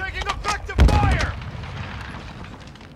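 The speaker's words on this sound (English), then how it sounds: "Hostile cannon shooting overhead." Cannon fire overhead in a Call of Duty: Modern Warfare 2 team deathmatch, rapid gunshots followed by one heavy, close boom that rumbles and decays slowly, with radio-style voices talking over the opening shots.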